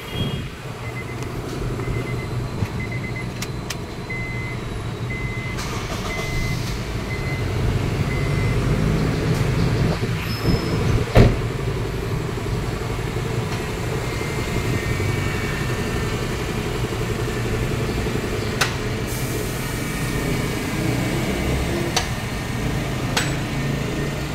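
A Honda CR-V engine idles during an oil change, a steady low rumble that holds for about twenty-four seconds with a few faint clanks and no talking.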